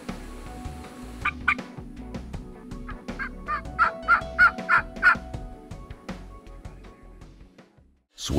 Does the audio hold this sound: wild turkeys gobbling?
yes